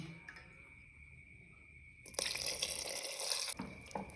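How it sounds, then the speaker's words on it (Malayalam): Water is poured into a pot of mango pickle made with hot green chillies. It sounds as a short, splashy pour of about a second and a half, coming in midway after a quiet stretch and then stopping abruptly. "കുറച്ചും കൂടി വെള്ളം ഒഴിച്ചു കൊടുക്കട്ടോ"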